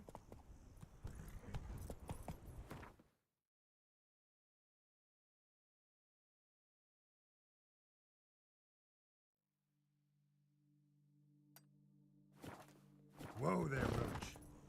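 Horse hooves clip-clop at a walk in The Witcher 3: Blood and Wine, heard in a short burst at the end after talk and a long silent gap.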